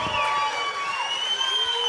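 An audience cheers and shouts for a magician at an entrepreneur expo talk, a bright steady crowd roar lasting throughout.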